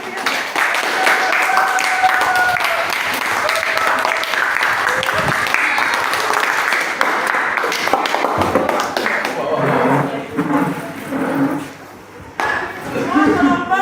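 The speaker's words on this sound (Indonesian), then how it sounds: "Berikan tepuk tangan yang meriah." Classroom audience applauding after a group presentation, a lively patter of clapping hands with voices talking over it and clinking taps mixed in, thinning out in the latter half.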